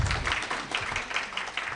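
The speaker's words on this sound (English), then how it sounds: "Another round of applause, please." Scattered applause from a workshop audience at a financial wellness event, fairly faint and brief, a short patter of hands clapping without any voices.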